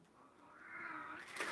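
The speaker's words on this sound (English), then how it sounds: "Sorry, there's a cat fight going on." A cat yowls in a rising, drawn-out wail during a fight, faint and somewhat distant, swelling in loudness over a second and a half.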